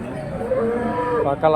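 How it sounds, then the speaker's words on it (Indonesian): Simmental cow at a Banyuwangi cattle market lowing in a single drawn-out moo that rises into a louder bellow near the end, close and clear against faint market background noise. "Di depan saya ini sapi jenis simental."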